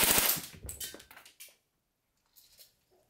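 An airsoft rifle fitted with SHS 12:1 high-speed gears and running on a 7.4V LiPo fires a loud, rapid full-auto burst, followed by a couple of short, quieter bursts and silence.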